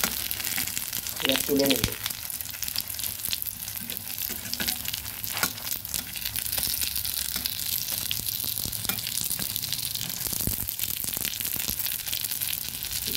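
Banana flower pakoras frying in hot oil, a steady dense sizzle running throughout with brief stirring and scraping clatter, while someone speaks briefly over it.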